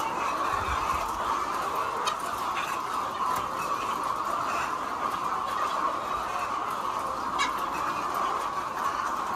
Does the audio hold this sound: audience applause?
no